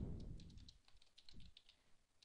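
Typing on a computer keyboard while setting up a document: a quiet run of light, irregular key clicks with a few soft thumps, no voices.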